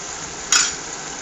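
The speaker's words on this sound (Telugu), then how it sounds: "నానబెట్టిన జీడిపప్పు కూడా వేసేస్తున్నాను" Soaked cashews drop into a hot pan with meal maker soya chunks for a kaju curry, setting off a single short, bright burst of sizzling over a steady frying hiss, close and fairly loud with no talk.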